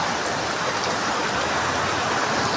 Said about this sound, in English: Crazy rainfall.